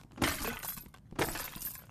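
Two sharp glassy shattering crashes as objects are smashed in Rec Room, each a loud burst followed by tinkling debris, about a second apart.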